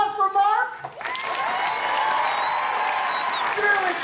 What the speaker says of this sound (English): And how about a round of applause for me